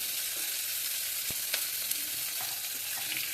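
Chopped onion sizzles and hisses in hot mustard oil while being stirred, a dense continuous frying crackle up close with a few sharp scrapes of the spoon.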